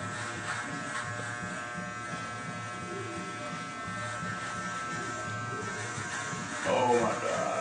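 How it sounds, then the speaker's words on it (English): An electric shaver buzzes steadily and close up as a man shaves around his mustache, with a louder burst of contact noise near the end, mixed in with his speech. "I'm trying to shave"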